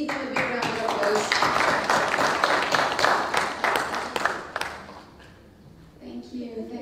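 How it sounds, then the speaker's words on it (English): A conference audience at a women's finance and investment summit in Mauritius breaks into loud, sustained applause with dense clapping, which fades out toward the end as a voice begins speaking. "Please give him a big round of applause."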